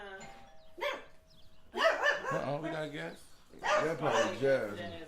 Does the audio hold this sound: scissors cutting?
no